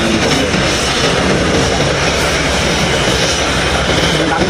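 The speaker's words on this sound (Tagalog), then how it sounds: "yung dating ng helicopter" A helicopter arrives with a medical team, its engine a loud, steady roar that fills the whole stretch without a break.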